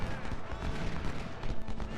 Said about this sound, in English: My cannons are counter battery firing.